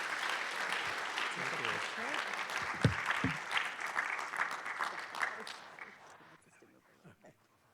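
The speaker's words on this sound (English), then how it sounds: "let's give Bob Sakai a huge round of applause" An audience at a volunteer awards and recognition event applauds for a lifetime achievement recipient. The dense clapping holds at moderate loudness, then gradually thins and fades to a few scattered claps.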